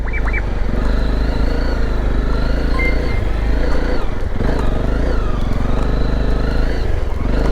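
A motorcycle on an off-road enduro section with freshly fitted tyres, its engine droning steadily and loud up close, the revs rising and falling as the rear wheel slides about, with no talking.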